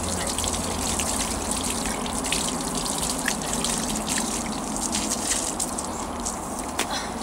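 Running water splashes continuously during an outdoor dog bath, a steady gushing stream from a hose or tap, fairly close and constant throughout with small irregular splashes and no talking.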